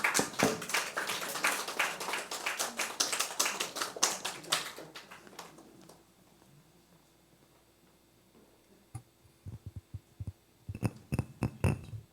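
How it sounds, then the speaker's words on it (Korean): A church congregation at a sermon contest claps loudly and steadily for about five seconds for its oldest contestant, then the applause fades into a pause before a few scattered claps and taps. "정복순 권사님 나오실 때 우리 큰 박수로"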